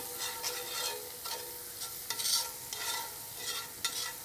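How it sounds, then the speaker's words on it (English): Soft sizzle of onions frying in a pan over a campfire, punctuated by several scraping stirs at an uneven pace. "So you just want to fry off the onion a bit till it starts being a bit translucent."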